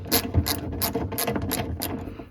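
A ratchet fitted with a 10mm socket and long extension clicks steadily as it backs out a rear bumper bolt on a 2002-2006 Toyota Camry, six or seven crisp, close bursts of rapid pawl clicking with short pauses between, no talking.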